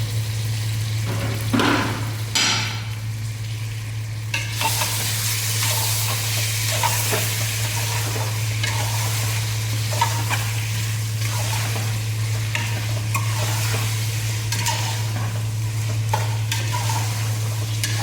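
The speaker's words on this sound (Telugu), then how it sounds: "మటన్ వేసిన తర్వాత కూరను ఒకసారి మంచిగా కలుపుకోవాలి" Mutton gongura curry being stirred in a pan, a continuous soft sizzle and scraping of the spoon through the wet mixture, with a steady low hum underneath and no talk.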